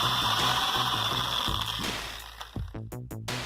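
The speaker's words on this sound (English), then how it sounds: "I am using a 1/2-inch drill bit to bore out a hole" A drill boring a hole with a 1/2-inch bit for a brass insert, a steady pulsing mechanical whir close by that winds down into a few spaced clicking ratchet-like bursts at the end.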